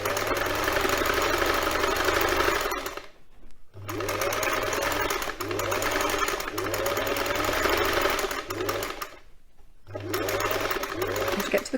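A domestic sewing machine stitches a quilt cover in steady motor-driven bursts, pausing twice briefly between runs, close and fairly loud with no talk over it.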